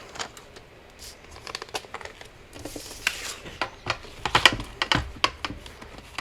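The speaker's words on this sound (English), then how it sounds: "Take paper trimmer again." A paper trimmer slices through decorative end paper for a handmade journal, giving a series of close, sharp clicks and short scraping cuts with quiet rustling between them.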